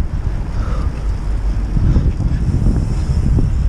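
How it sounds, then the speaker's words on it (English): Strong wind buffets the microphone in loud, continuous low rumbling gusts that swell and intensify partway through, with no voices. "It's so windy."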